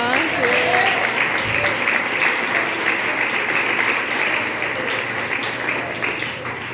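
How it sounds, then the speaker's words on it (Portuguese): A church congregation claps for Jesus in steady, continuous applause, with a voice speaking over the clapping at the start. "Pode bater palmas para Jesus"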